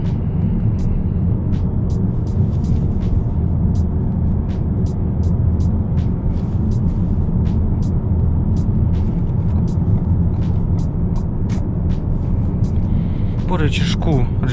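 Constant low road roar from all-season tyres fills the cabin of a moving 2019 Ford Escape 1.5 EcoBoost AWD, a steady tyre hum with faint ticking and a brief rustle near the end.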